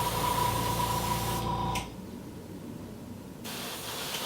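Airbrush spraying Tamiya paint, driven by an Iwata compressor at about 20 psi: a steady broad hiss with a faint tonal hum that cuts off partway, leaving a quieter background before a soft hiss resumes near the end.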